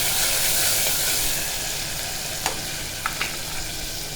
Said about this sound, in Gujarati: પછી આપણે તેમાં સમરેલા ટમેટાના પીસ નાખીશું હવે આપણે તેને મિક્સ કરીશું